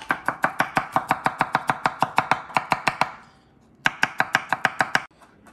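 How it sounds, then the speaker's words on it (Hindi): Fresh garlic is chopped with a knife on a board in fast, even, sharp close taps, a long run of about twenty strokes, a short pause, then another quick burst. "गार्लिक आपां चॉप कर लिया"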